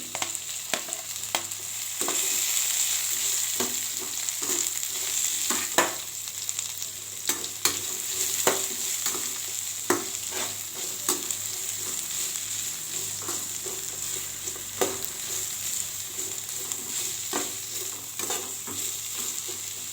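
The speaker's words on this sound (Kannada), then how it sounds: "ತುಂಬ ಏನು ಈರುಳ್ಳಿ ಫ್ರೈ ಆಗಬೇಕಾಗಿದ್ದೇನಿಲ್ಲ, ಒಂದು 3/4 ಭಾಗ ಬೇಯಿದ್ರೆ ಸಾಕು" Two medium onions, sliced, fry in a pan for an Andhra-style saaru. A steady close sizzle runs throughout, broken by repeated scrapes and clinks of stirring, with no talking.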